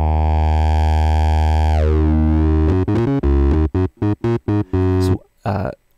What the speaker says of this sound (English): And then I'll introduce distortion, saturation, to give it a bit more of a shape.